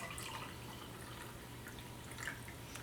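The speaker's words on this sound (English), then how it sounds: "we're going to fill a glass with water here" Water from a tap splashes into a glass in a steady, quiet trickle with small drips and a low hum underneath, and no one speaks.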